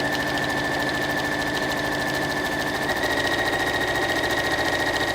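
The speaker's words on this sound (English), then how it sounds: "I'm going to go down and stitch 1/4 of an inch down that one as well." Sewing machine stitching a quarter inch down through several layers of fabric at a textile workbench, a steady rapid mechanical hum and patter running continuously and fairly close with no talk.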